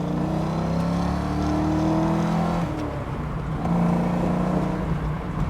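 A 1988 Ford Mustang 5.0 convertible's V8 accelerates on a highway, its engine droning and rising in pitch, dipping briefly at a shift, then pulling again with steady road noise.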